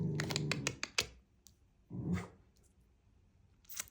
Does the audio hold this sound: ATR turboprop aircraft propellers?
no